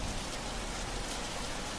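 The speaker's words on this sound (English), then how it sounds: "the raindrops, more and more of them begin to fall, making a sound that gets louder and louder." Light rain falling steadily, a dense wash of raindrops pattering on surfaces, even and close, with no voices.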